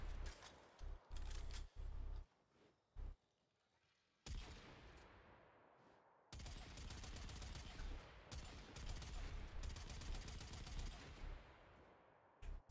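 Kuva Quartakk rifle from the video game Warframe firing all four barrels at once, loud sharp bursts of gunfire in uneven clusters with brief gaps, then a sustained rattling volley of rapid shots in the second half.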